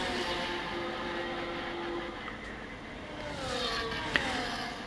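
A Formula 1 car in the F1 25 racing game pulls away from the pit lane, its engine a steady, continuous drone with a rising whine near the end and a brief sharp click.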